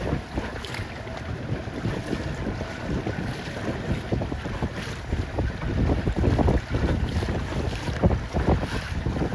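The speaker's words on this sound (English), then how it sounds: "It is tricky wind right now." Steady wind roars across the microphone while sailing 29er skiffs on open water, with gusty buffeting, boat and water noise underneath and no talking.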